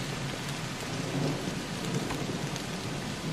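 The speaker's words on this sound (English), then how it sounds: "we'll get inside out of the rain a little bit" Heavy rain falls without a break in the zombie survival game VEIN, a dense, steady hiss of downpour with a low rumble underneath. No one speaks.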